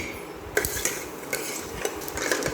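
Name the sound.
mustard seeds, urad dal, cumin, fenugreek spluttering in oil in kadai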